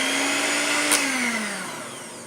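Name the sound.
blender mixing eggs into quesadilla batter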